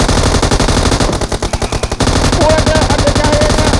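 Dense automatic gunfire from PUBG Mobile rattles in fast, loud bursts with a brief stutter midway, then continues steadily.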